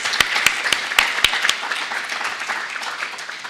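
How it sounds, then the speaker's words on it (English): Conference audience applauding a speaker at a plenary session on African health emergencies; a few sharp, loud claps open, then dense steady clapping that slowly fades. "let's give this speaker a warm round of applause"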